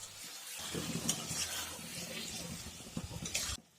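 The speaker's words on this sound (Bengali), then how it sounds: "আলু দিয়ে পুরোটা খুব ভালোভাবে আবারও মিশিয়ে নেবো। কিছুক্ষণের জন্য আবারও কষতে থাকবো।" Fried spiced potatoes are stirred into a hot pan, with a steady close sizzle under scraping strokes of a spoon that swell briefly near the end before cutting off.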